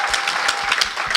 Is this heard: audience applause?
yes